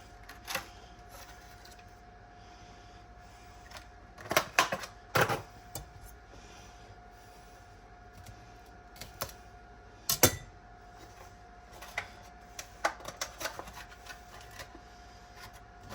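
Knife chopping fresh tarragon on a cutting board for New Orleans-style BBQ shrimp, heard as scattered bursts of quick, crisp taps near the mic, clustered in short runs with quiet gaps between.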